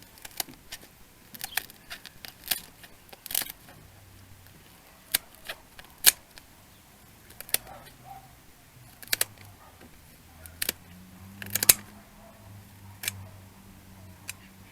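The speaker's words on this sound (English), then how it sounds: "we are just going to trim along this line all the way across the wing on one wing" Scissors snip along a turkey's wing feathers in a series of sharp, quiet clicks and cuts at irregular intervals, close by against a faint, low background hum.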